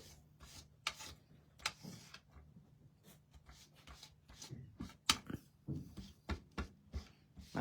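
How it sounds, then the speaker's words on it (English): Ink is rubbed onto a Christmas craft project, giving soft, close brushing and dabbing strokes in an uneven rhythm of short scuffs with no talking. "So I'm just rubbing over a little bit extra ink."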